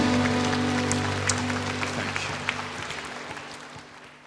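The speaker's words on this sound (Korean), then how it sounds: "사랑하는 주님께 영광의 박수 올려드립니다" Church congregation applause during a worship service, soft diffuse clapping over a sustained organ-like tonal hum, gradually fading.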